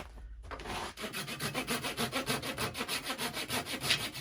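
A double-edged Japanese-style pull saw cuts quickly through wood on a lathe, its steady rhythmic rasping strokes coming close and loud, roughly three per second, after a brief pause at the start.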